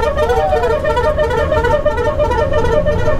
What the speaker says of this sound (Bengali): হালটা দেখেছো কিভাবে হর্ন দিয়ে এগোচ্ছে